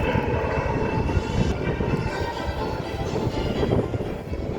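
MiG-17F jet fighter flying at an airshow, a rough, rumbling roar with heavy low-end buffeting and wind noise, steady and fairly loud without any speech.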